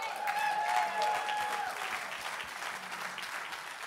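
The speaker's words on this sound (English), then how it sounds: "can we give a hand clap for the word of God?" A church congregation claps for the word of God in a steady patter of hand claps, moderately loud, with a few voices faintly in the mix at the start.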